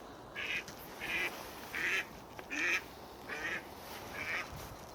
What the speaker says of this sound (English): I just had 2 ducks flying straight at me.